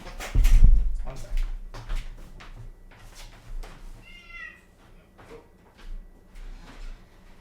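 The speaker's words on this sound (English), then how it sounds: "Dramatic cat." A pet cat named Oscar meows a short, high cry at a distance amid soft household thumps and rustles, while a person talks nearby.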